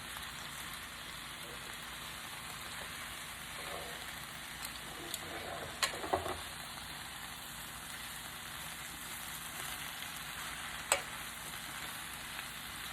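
Spinach cooking down quietly in a pan, a steady soft hiss with a few faint clicks and scrapes.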